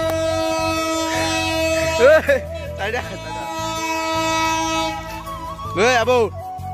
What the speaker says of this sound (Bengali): আর ট্রেন দেখেন